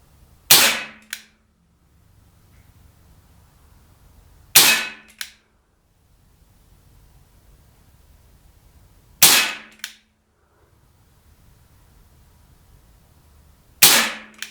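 A Webley MKVI .455 CO2 pellet revolver fires four sharp, snappy shots, evenly spaced a few seconds apart. Each is close and loud with a quick metallic ring, and the pauses between them are quiet.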